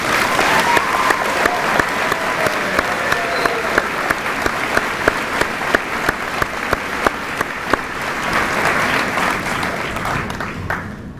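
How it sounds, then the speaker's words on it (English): A graduation audience applauds teachers with sustained clapping, punctuated by a regular, sharp louder clap close by throughout. "Let's have a round of applause for those three teachers."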